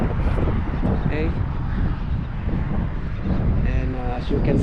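Wind blows at a bay in a strong continuous rumble against the microphone, loud and low, while someone talks over it.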